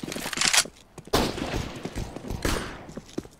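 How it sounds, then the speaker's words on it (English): Rapid P250 pistol gunfire in Counter-Strike: Global Offensive, with dense, overlapping bursts of sharp shots that are loud and close. Other combat noise fills the gaps and no one speaks. "I don't see enough people use the P250, but it's a solid pistol."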